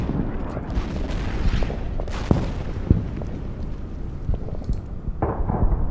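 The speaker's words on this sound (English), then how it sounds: "We also have the artillery." Artillery fire in the World War II strategy video game Order of Battle: Winter War, heavy booms and crackling blasts going off in scattered bursts against a rumbling battle background.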